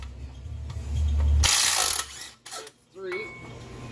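A ratchet with a 10 mm socket removing water pump bolts on a 5.3 LS engine gives a loud burst of rapid clicking mid-clip, then falls to brief metallic ticks and small mechanical handling noises close by.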